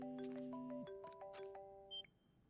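Ringback tone of an outgoing phone call before it connects, heard as layered electronic tones and beeps with steady sustained pitches and a brief higher chirp near the end, fairly loud with no speech.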